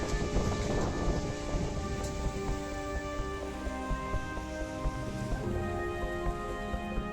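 Steady heavy monsoon rain pours in a dense, continuous hiss, with a low rumble underneath that swells and fades.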